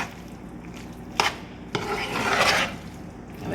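A utensil scrapes and stirs a cheesesteak sloppy joe mixture in a pan as cheese melts, producing a few sharp scraping strokes followed by a longer rasping stir over a faint background hum.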